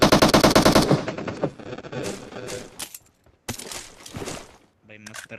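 Rapid automatic gunfire in PUBG Mobile opens loud and close in a sustained burst, then breaks into scattered shorter shots and clicks with gaps of quiet.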